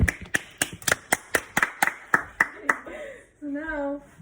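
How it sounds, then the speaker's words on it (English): A small group clapping in the kitchen while making a s'mores dip, about eleven loud, close, evenly spaced claps slowing slightly, followed by people talking. "Everyone clap."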